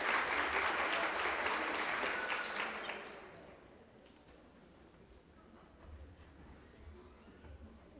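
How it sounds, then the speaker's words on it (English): Audience applause at a morning plenary session of a conference, loud clapping for about three seconds that fades out, leaving faint room noise. "Let's give her a round of applause."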